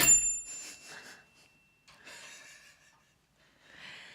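A bell on a talk-show set rings once with a bright, clear ding that decays at the start, followed by soft breathy sounds and quiet pauses.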